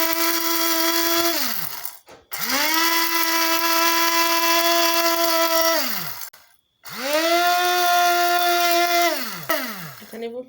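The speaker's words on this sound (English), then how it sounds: "So I've transferred the toasted spices into my spice blender. So I'm going to be blending." A small electric spice blender grinds toasted curry spices in three loud whirring bursts, each spinning up and winding down, separated by brief pauses of near silence.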